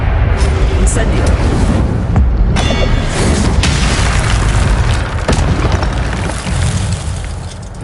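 A fire spell is cast in a video game, with booming, explosive blasts over a loud continuous rumble and sharp crackling bursts, while a voice speaks over the action.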